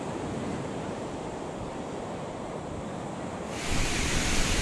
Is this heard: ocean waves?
yes